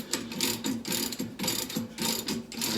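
Hand ratchet working a bolt loose on the seat of a 1972 Ford 2000 tractor, a rapid close clicking of the pawl in steady back-and-forth bursts.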